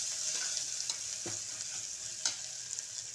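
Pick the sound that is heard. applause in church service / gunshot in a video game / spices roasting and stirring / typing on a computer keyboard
spices roasting and stirring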